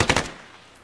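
Gunfire in the military shooter Arma, a rapid burst of three or four close shots that fades into a short echoing tail.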